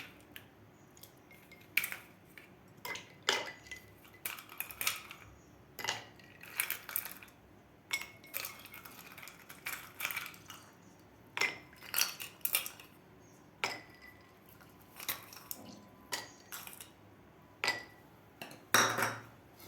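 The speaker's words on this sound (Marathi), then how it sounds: "यामध्ये घालायचं आपल्याला बर्फ घालायचा आहे यामध्ये" Ice is dropped into two glasses of lemon mint sharbat, making a long run of bright, irregular clinks and clatters with short quiet gaps between them.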